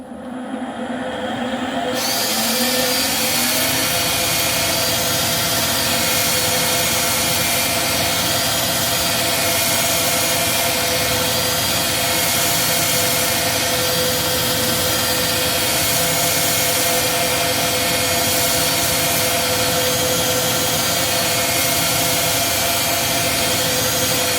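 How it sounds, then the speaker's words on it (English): A power drill whirs steadily and loudly for the whole stretch after a brief start-up, a constant motorized drone with no pauses, while sanding a wooden bowl. "I'm going to do that with the drill."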